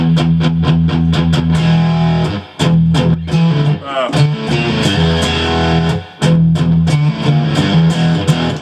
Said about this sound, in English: Since I have the boost all the way up, I get much more distortion on the clean band, but not so much on the low band